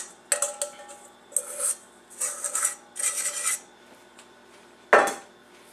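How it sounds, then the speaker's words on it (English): A spoon spreads cinnamon roll filling mixture over dough: several short raspy scraping strokes in bursts, close up, then a final louder scrape. "I'm going to use the spoon to spread it out."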